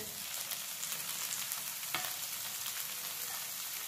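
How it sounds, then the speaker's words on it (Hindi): Ground coconut frying with masala for a Malvani crab curry, a steady close sizzle over medium-high flame, with one sharp scrape of a spatula partway through. "मीडियम या हाई फ्लेम पर इस तरह से अच्छे से भून लें।"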